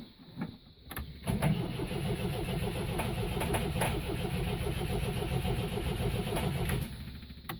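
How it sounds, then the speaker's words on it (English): A car with a faulty starter motor cranks but fails to start, giving a continuous rapid chugging whir that runs for several seconds after a brief click, loud and close with no talk over it. "I think we may have a problem with our starter motor"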